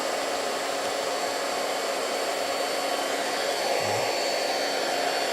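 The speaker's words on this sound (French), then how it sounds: "Ça fait le bruit d'un séchoir à peu près, hein, et ça gonfle plutôt vite" An Omesiry electric air pump inflating a kayak gives off a steady, loud, hair-dryer-like whoosh of rushing air that stays constant and close throughout, with no talking.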